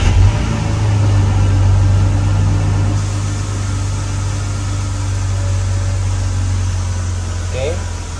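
A BMW car engine runs at a steady idle, a constant low hum that holds without revving for the whole stretch.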